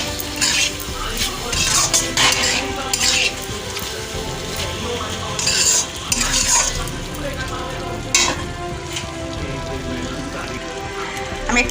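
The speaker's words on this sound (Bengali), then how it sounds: "সোয়া সস দেব আর একটু চিলি সস দেব দু মিনিট নাড়িয়ে নেবো" Soya chilli being stirred in a pan with soy sauce and chilli sauce, a steady sizzle and frying crackle broken by repeated scraping, stirring strokes, loud and close, with no talk.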